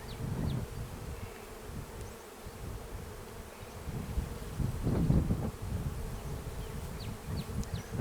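Honey bees buzz steadily around an opened hive during a May colony installation, a close, continuous droning hum with faint wind rustle and no voices.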